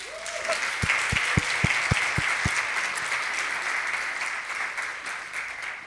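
Audience applause for panelists at a patient panel session, a steady, dense wash of clapping from a sizable crowd that carries through the whole stretch, with a few low thumps near the start.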